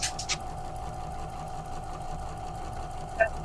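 A sewing machine runs steadily with a constant mechanical hum and whir, up close, broken by a couple of brief sharp clicks at the start and near the end.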